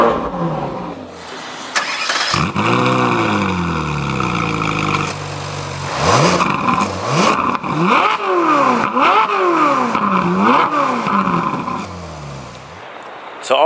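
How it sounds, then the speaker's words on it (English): Ferrari 458 Spider's naturally aspirated engine cranks and fires up, settles briefly, then is blipped through a series of sharp, rising and falling revs, loud and close, with a voice briefly heard. "I will press the start button and we'll roar this naturally aspirated engine to life."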